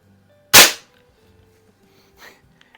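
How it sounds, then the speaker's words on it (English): A single sharp, loud crack from a circa-1950s Benjamin Model 352 .22-caliber rifle powered by an 8-gram CO2 cartridge, fired close by and fading fast, followed by a faint mechanical click or two and quiet background. "I don't know what it is about CO2 guns, even though they're not, you know, uber powerful, they really pack a bark."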